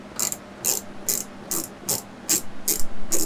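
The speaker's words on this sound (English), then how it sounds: "So we'll start by using our 10mm on this nut." Ratchet with a 10mm socket working a tail light nut on a BMW F30, eight quick clicking bursts in a steady rhythm, close and crisp, no talking.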